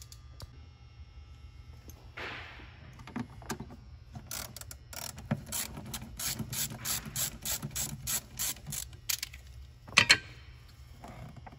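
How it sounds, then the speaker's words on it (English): A ratchet with an 8mm socket loosens a band clamp on a car airbox during a carbon fiber cold air intake install, clicking in fast, close, regular bursts that pause briefly before another run. "we're going to remove another band clamp using an 8mm socket"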